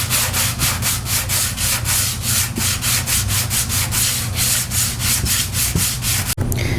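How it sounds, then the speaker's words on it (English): Hand sanding of wood veneer edges and a furniture top with 180-grit sandpaper, a steady rhythmic scraping of even back-and-forth strokes, close and loud, ending with a sharp knock. "Now I'm going to hit the top here to even it out a little bit, and I'm using 180 sandpaper."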